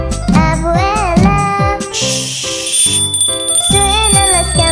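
Bright, ringing church-style bell tones chime over a sung children's song (Spanish "Frère Jacques") with backing music, the high ringing lingering through the second half.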